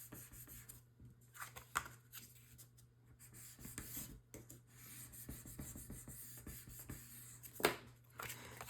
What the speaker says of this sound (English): going to use my bone folder right down each side just to get that paper right up against that edge